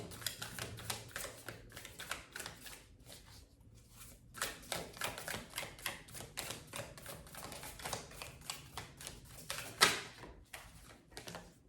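Tarot-style astrology cards pulled and shuffled from a deck, a run of quick dry papery flicks and taps close by, steady and quiet with a sharper snap near the end.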